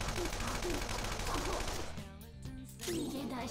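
Rapid gunfire in the video game Persona 5 Royal, dense bursts of shots layered over game music and effects, briefly easing before surging again.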